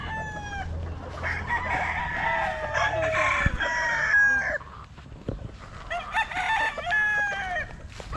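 Several fighting roosters and a young stag crow loudly and close by at a gamefowl seller's yard, with overlapping crows and clucks in quick succession.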